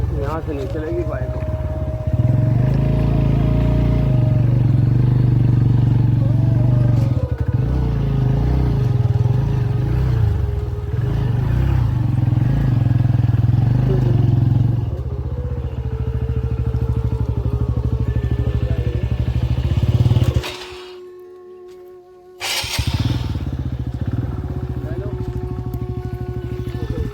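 Motorcycle engine idling and running steadily up close on a forest path, a loud constant low rumble that briefly cuts out near the end before resuming, with someone talking over it.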